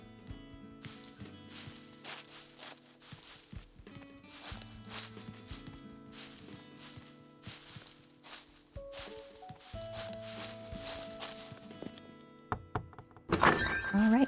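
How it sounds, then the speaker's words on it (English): Haunted island ambience in a video game, with a gyroid giving soft, irregular plunking and creaking notes over a quiet musical soundscape, ending in a brief brighter clatter. "the gyroid making that sort of plunking noise"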